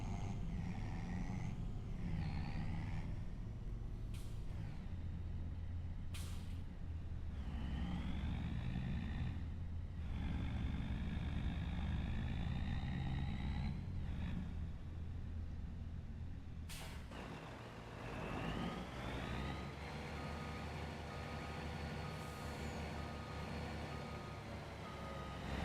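A truck backs into a garage in a driving video game, with steady engine rumble and repeated reversing beeps. Sharp air-brake hisses come loudly through the stretch.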